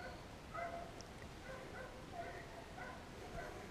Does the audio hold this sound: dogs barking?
yes